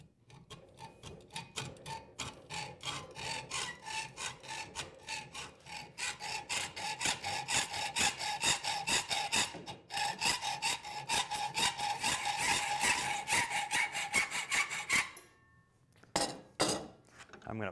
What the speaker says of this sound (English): Grab my hacksaw and we'll just cut it to rough shape the best we can.